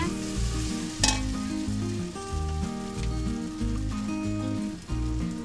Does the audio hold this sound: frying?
yes